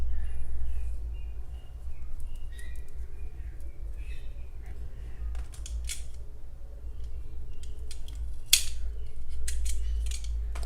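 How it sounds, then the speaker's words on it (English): Scissors snip crochet yarn in several brief, crisp cuts over a low steady background hum, with small handling sounds in between. "tie the 2 colors together in a knot, and then you cut"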